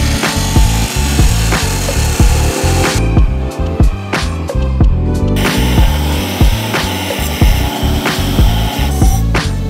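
A power saw cutting a straight section off a steel exhaust pipe for a Porsche 911 930 in a workshop, heard as a loud, continuous, close grinding rasp with rhythmic pulses, with no talk.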